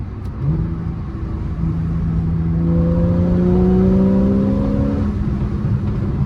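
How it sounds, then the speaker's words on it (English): A 2014 Porsche 911 S engine with an optional sports exhaust revs up with a deep, throaty note, its pitch climbing steadily and loudly over a steady rush of wind. "I've got the optional sports exhaust system on it, so you know, it sounds incredible."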